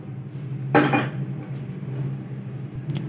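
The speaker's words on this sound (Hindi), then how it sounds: "पैन चढ़ाएंगे चूल्हे पर।" A metal pan is set down on a stove in a home kitchen: one sharp clanking knock early on, a faint tap later, then quiet room hum.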